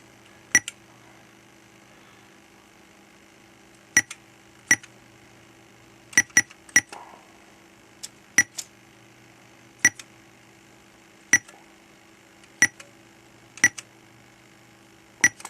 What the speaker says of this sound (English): The beep's a little bit annoying, certainly louder than what you get on a real Spectrum.